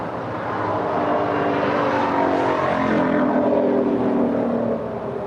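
A United Airlines Boeing 757-300 jet at Los Angeles International Airport, a loud, steady engine roar and whine that swells slightly as it passes at moderate distance, with no voices.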